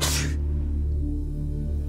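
A single sharp human sneeze bursts out at the very start, in a demonstration about respiratory droplets spreading through the air, then gives way to a steady low hum for the rest of the moment.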